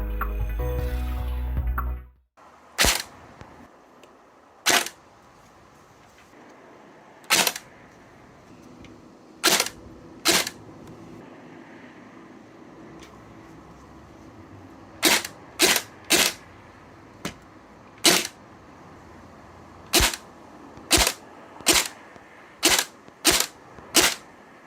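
A Specna Arms SAJ05 AK airsoft rifle fires sharp single shots and short clustered bursts at irregular intervals after a loud opening noise, each crack close and crisp against a quiet background.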